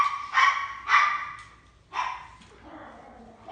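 A dog barks three times in quick, sharp bursts, fairly close, followed by a softer whining yelp.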